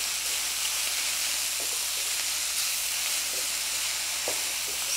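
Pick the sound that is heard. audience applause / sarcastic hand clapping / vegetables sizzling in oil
vegetables sizzling in oil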